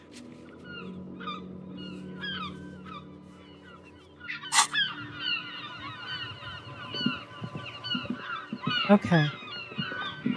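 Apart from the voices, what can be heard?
seagull sounds in video game Disco Elysium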